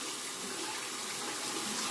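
Tap water runs steadily into a sink to rinse a Merkur Progress safety razor during a shave, a continuous close hiss and splash with no talking.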